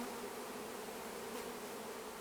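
Honey bees swarm around an open hive at a ranch during a hive installation, producing a dense, steady buzzing drone that stays even and fairly close throughout.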